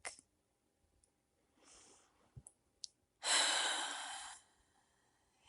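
Deep breathing during a seated yoga twist in a restorative postnatal yoga class: a few soft breaths, then one long, loud exhale lasting about a second, heard alone and close up.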